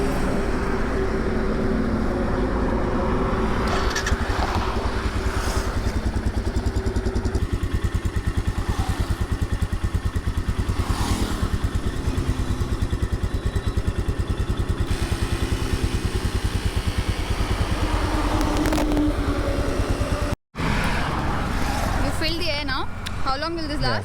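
A motorcycle engine idles steadily beside a running micro tyre inflator during a puncture repair on a Himalayan ride in Spiti, a constant loud drone with rattling, briefly cut out near the end, with voices talking over it.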